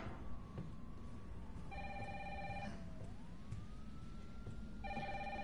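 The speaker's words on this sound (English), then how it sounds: "And someone's calling the phone." A phone rings in Resident Evil 3, two bursts of electronic telephone trilling separated by a pause, set against a steady low ambient game hum with a faint gliding tone.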